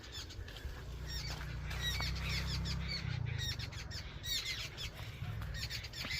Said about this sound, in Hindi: शाम का टाइम है तो परिंदे भी अब चहचहा रहे हैं